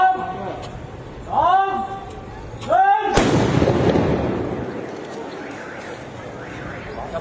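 A voice speaks twice, then a single loud, sharp explosion booms at close range as a suspicious roadside object in Ratchaburi, Thailand is detonated, rumbling away into a fading roar, with faint voices afterward.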